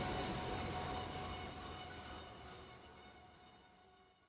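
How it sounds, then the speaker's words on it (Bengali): A train pulls into a small, nearly deserted countryside station, a loud steady rumble of rolling wagons with a faint high wheel squeal that slowly fades and recedes, with no voices. "টানা 3 ঘন্টার যাত্রাপথের শেষে ট্রেনটা আমাকে নামিয়ে দিল একটা প্রায় জনশূন্য ছোট্ট হল স্টেশন"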